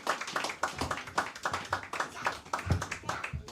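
A small group gives a quick round of hand claps for a teacher after a class at a gathering, sharp claps in an uneven rhythm over a few seconds, close and fairly loud.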